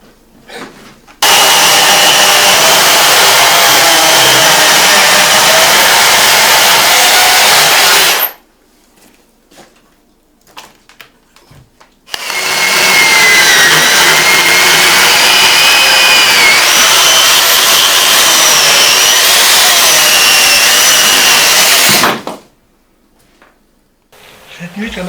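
A chainsaw runs loud and close in two long sustained bursts, engine whining steadily, separated by a few seconds of near silence.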